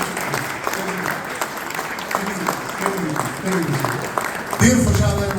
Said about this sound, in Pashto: زه هیله لرم چې ورته په دواړو لاسونو ښې چکچکې وکړم